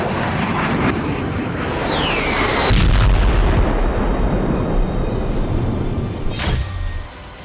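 Russian artillery bombardment across Ukraine: continuous heavy rumbling booms and blasts, loud and sustained, with a rising whistling streak early on and a sharp burst near the end before it drops away.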